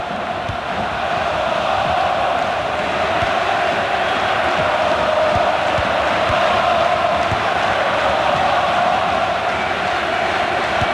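A large stadium crowd at a soccer match in a video game cheers and roars in a dense, loud, continuous wash of noise that holds steady for about eleven seconds.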